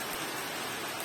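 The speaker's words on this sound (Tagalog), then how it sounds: "Mahina man siya, pero dugay siya Dugay mahuntat ang ulan." Rain falls steadily on a hot day among bougainvillea plants, a dense, even hiss of drops heard close and without talk through the short stretch.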